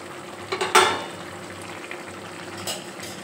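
Fried fish pieces dropped into a curry with drumsticks simmering in a pan: a few soft splashes and clatters come close together near the start, then a quiet, low bubbling settles in.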